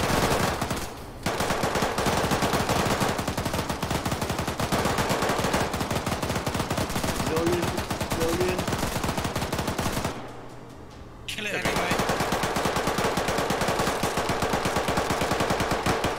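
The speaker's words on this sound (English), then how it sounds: "I'm shooting at them" Sustained automatic weapon fire in the Arma 3 military shooter set in Afghanistan, dense rapid bursts almost nonstop, loud and close, with one brief pause partway through before the firing resumes.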